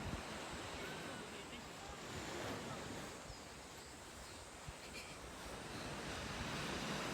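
Wind rushes steadily at sea while waves wash in the background, a constant broad roar with buffeting on the microphone and faint, indistinct voices underneath.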